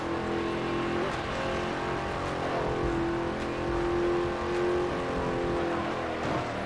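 Chrysler 300C engine in the racing video game Midnight Club 3, a steady loud drone with rising and falling revs as the car accelerates, continuous across the whole stretch with no talking.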